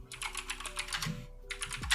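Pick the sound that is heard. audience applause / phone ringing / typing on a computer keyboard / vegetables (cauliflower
typing on a computer keyboard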